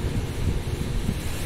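Steady rushing air from the condenser fan of a Gree inverter air conditioner, a constant windy roar buffeting the microphone with no pauses.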